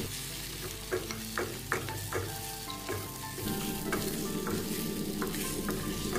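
Beaten egg mixture stirred quickly in a hot pan: rapid scraping strokes of the spatula over a steady sizzle, close and fairly loud, and the frying swells in the second half.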